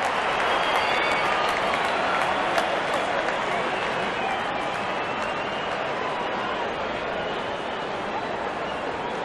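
Crowd applause at a T20 cricket match between England and Australia in a stadium, a dense sustained wash of clapping and cheering that stays loud and steady throughout.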